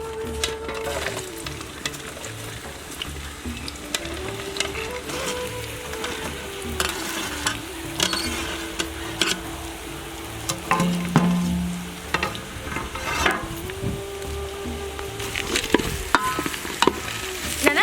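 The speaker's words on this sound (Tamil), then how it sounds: "எண்ணெய் நல்லா சூடாயிடுச்சு. பாவக்காய் எடுத்து கொட்டிக்கலாம்." Bitter gourd pieces frying in hot sesame oil for a tamarind curry, a steady close sizzle and crackle with stirring and utensil scrapes throughout, loudest bursts near the end.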